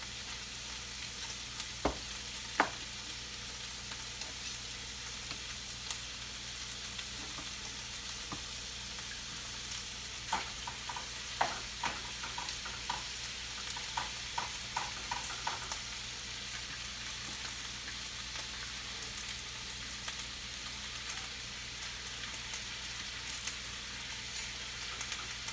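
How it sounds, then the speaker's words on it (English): Chicken pieces for fajitas, still slightly pink, sizzle steadily in a frying pan, with a soft continuous crackle and occasional sharper pops and stirring scrapes up close, no voices. "So we'll see if we can get it to brown up in the pan."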